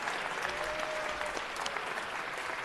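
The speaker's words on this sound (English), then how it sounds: "Let's give them a round of applause." Steady applause from an audience at a city council meeting honoring Buffalo soldiers, a dense, even patter of clapping that fills the room and holds at constant loudness throughout.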